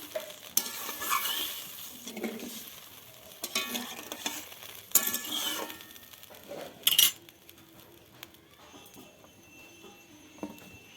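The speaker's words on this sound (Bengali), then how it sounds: "দেখো বন্ধুরা আমার জলটা ফুটে গেছে যে ঝোলটা ফুটে গেছে" Egg and eggplant curry gravy bubbles in a pan under uneven bursts of spatula scraping and metal pan knocks, quieter and sparser toward the end.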